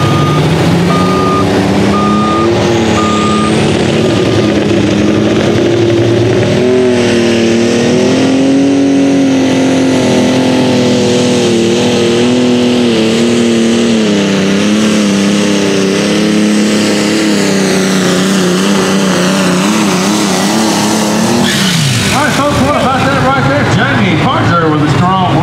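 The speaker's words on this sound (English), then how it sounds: "the tractor out of Jackson, Tennessee." Alcohol-burning pulling tractor from Jackson, Tennessee roars loudly through a pass at a Hopkinsville, Kentucky tractor pull, engine tone climbing and wavering continuously with crowd and announcer voices beneath.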